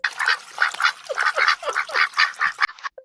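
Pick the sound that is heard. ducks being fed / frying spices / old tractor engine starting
ducks being fed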